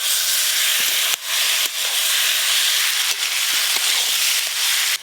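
Fried potato and pointed gourd tipped into a pan of sizzling spice paste, giving a steady loud hiss and crackle of frying with a few sharp clatters from the pan throughout.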